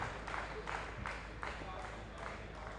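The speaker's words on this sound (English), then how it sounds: "Look at the applause for him from both camps." Spectators at a school First XI cricket match between Royal College and St. Joseph's College applaud a batsman after his innings, with faint, evenly spaced claps pulsing beneath a commentator's voice.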